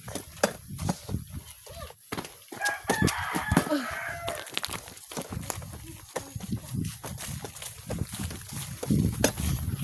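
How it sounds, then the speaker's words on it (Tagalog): Chickens cluck and a rooster crows in the distance amid gusty wind and scattered knocking noises outdoors. "Mga manok."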